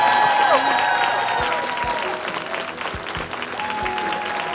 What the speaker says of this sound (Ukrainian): І ми ще раз аплодуємо неймовірній Вероніці Мірошник!